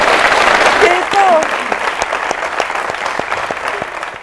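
Audience applause at a Hindi-language television quiz show, a dense steady clatter of many hands running the full length under continuous talk.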